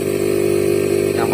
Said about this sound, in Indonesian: Yang pasti ini mesin kompresor aktif.